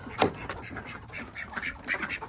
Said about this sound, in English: Ducks are ready to go. I can hear them.